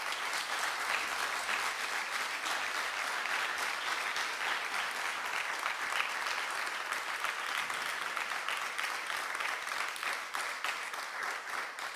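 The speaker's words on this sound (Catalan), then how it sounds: "us demano un solemne aplaudiment" Sustained applause fills a diploma ceremony for radio and communication courses, a dense, steady clapping from an audience that holds at an even level from start to finish.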